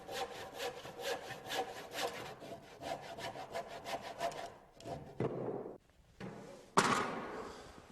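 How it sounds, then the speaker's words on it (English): A handsaw cuts notches into a wooden stair carriage with quick, regular back-and-forth strokes, close and distinct, then a few slower strokes and a couple of dull wooden knocks near the end. "When I'm making my cuts with a handsaw, I want to be sure not to go any further than the imaginary lines."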